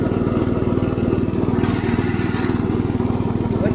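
A hay farm tractor engine runs steadily in a mountain field while mowing hay, a continuous mid-pitched drone with a regular pulsing beat, close and loud with no pauses.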